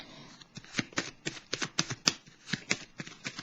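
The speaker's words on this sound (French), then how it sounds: "Ici, je vais piger une carte pour la solitude" Tarot cards flick and riffle in a rapid, uneven run of crisp papery taps, close and fairly quiet, with no voice over them.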